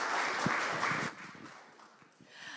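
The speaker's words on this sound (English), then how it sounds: "Another round of applause for Wanavokali." An audience applauds at a circular economy launch event in Nairobi, with dense clapping at first that fades quickly after about a second into scattered, faint claps.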